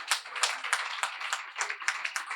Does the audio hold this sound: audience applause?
yes